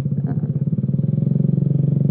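A Suzuki Shogun 125 motorcycle fitted with a racing exhaust idles close by, giving a loud, steady pulsing burble with a quick even beat and a slight blip early on.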